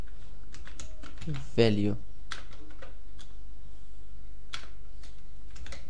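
Keys clatter on a computer keyboard in a quick run of close, crisp taps, including a Ctrl+F9 combination and an Enter press, with someone talking over part of the typing.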